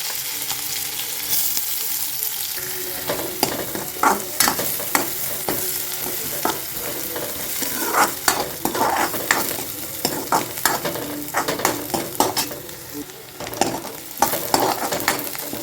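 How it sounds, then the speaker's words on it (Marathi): Cumin seeds and onion fry in a pan for a tempering, giving a steady sizzle broken by frequent sharp scrapes and clacks of stirring throughout, with no voices. "आता भाजीला फोडणी घालण्यासाठी जिरं टाकून घेते थोडंसं आणि एक कांदा घेतला आहे आपण"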